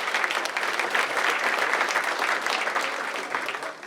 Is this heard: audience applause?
yes